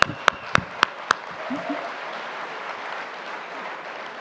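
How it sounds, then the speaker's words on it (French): Audience applause at the opening speech of a 2018 young farmers' congress in Lourdes: a few sharp, loud individual claps ring out first, then give way to a softer, diffuse sustained clapping. "On peut applaudir"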